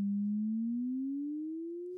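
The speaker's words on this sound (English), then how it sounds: "I will just play a really basic example of that, just like a sine wavetable" A pure sine tone played from a wavetable in an automotive audio demonstration: one clean, steady tone that glides slowly upward in pitch for about two seconds, heard alone with no other sounds.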